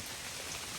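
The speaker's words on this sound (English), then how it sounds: "It's raining again on the Appalachian Trail." Steady rain falls outdoors at a power line campsite on the Appalachian Trail, making a dense, even hiss of drops with no pauses.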